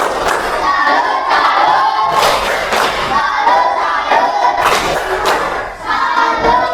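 A primary school class giving a rhythmic clapping salute cheer, loud and close, with repeated clap bursts in a pattern and children shouting along throughout.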